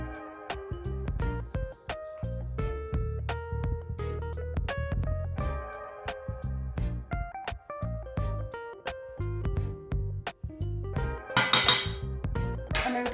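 A spoon clinks rapidly and repeatedly against a bowl while gelatin is mixed into a raspberry mousse, making bright, ringing taps in an uneven rhythm, with a denser rattle near the end.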